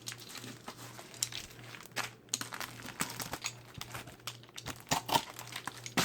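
Crinkling and tearing of packaging as a parcel from the United Kingdom, holding model landing pads, is cut open and unwrapped, with irregular close rustles and crunches throughout.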